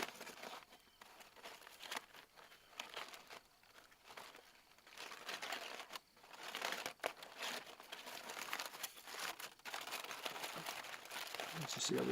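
Double-layered aluminium foil is crinkled and pulled off smoked meat cooked on a Weber kettle, giving a steady run of close crackling and rustling that continues for several seconds without talk.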